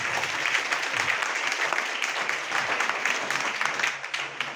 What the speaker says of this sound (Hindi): आदर्श के लिए जोरदार तालियां प्लीज